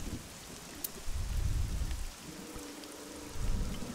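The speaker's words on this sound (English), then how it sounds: "it's also raining on me" Steady rain in the video game AI: The Somnium Files, a soft, even hiss of falling water with low rumbling swells, heard alone without talk.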